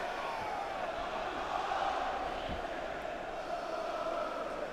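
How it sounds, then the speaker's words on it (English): Stadium crowd noise in the EAFC24 football video game during an Arsenal versus Manchester City Community Shield match, a continuous distant roar of supporters with chanting swells, no clear voice on top. "Crowd really up for this one today"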